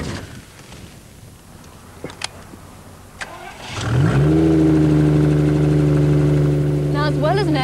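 A motor trike with an automatic gearbox cranks and fires up, settling into a loud, steady engine drone that swells as it pulls away, after a quieter stretch with a few clicks and knocks.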